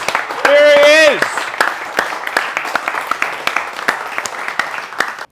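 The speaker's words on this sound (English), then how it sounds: "Let's give him a big round of applause for Tom Panos" An audience applauds a real estate speaker, opening with a long rising whoop from the crowd before scattered, fairly sparse claps continue at a moderate level.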